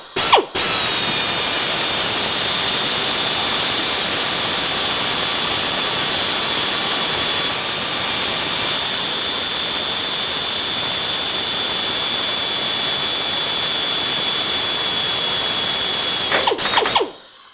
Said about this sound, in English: we could watch Mark's drill bit